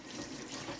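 Hands being rinsed under a running tap, a brief steady splash of flowing water, faint and close.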